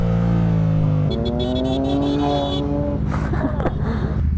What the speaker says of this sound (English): Who's revving there, John?